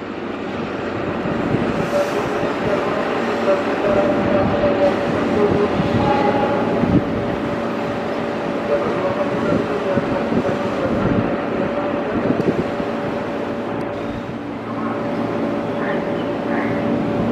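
Two trains pass each other at Jatinegara station, one bound for Gambir and one for Pasar Senen, a sustained loud rumble and rolling roar with a steady horn-like tone, voices faintly audible beneath.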